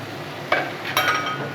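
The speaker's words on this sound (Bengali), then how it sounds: "টমেটোটা আমি এর সাথে পেঁয়াজ রসুনের সাথে ফ্রাই করে নিচ্ছি।" Chopped tomato frying with onion, ginger and garlic in a pan: a steady close sizzle with two sharp stirring clinks against the pan.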